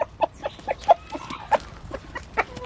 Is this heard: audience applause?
no